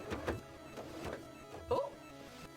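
An embroidery machine stitching cosplay work whirs and clicks in short mechanical sweeps, close and moderately loud; a small sharp tick near the end may be its thread snapping.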